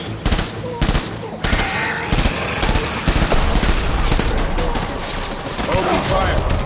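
Rapid bursts of gunfire in the video game Death Stranding, loud overlapping shots and volleys crackling almost continuously throughout.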